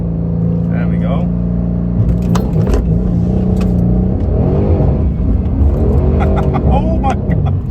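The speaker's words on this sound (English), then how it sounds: "Yeah, I think we're gonna do a launch control." A Mercedes C63 AMG engine rises and revs hard in a launch-control start on a Polish country lane, loud and close, with people talking throughout.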